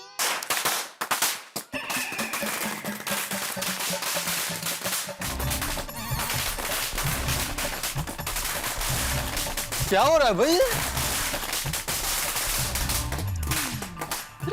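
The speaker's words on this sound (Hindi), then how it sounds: "ये अब्दुल पटाखे क्यों फोड़ रहा है?" Firecrackers going off during a Hindi TV comedy scene, a dense crackle of sharp bursts filling the background under excited dialogue, with people talking and shouting over the noise throughout.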